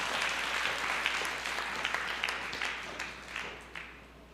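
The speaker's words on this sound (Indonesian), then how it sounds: "Berikan tepuk tangan yang meriah buat Tuhan" A church congregation at a Sunday service applauds loudly for God, many hands clapping in a thick, lively wash with a few sharper claps standing out near the front.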